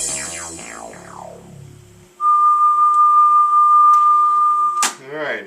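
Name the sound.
test tones played on Akai GX-4000D tape deck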